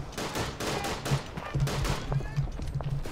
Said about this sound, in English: set up your machine gun. Shoot him.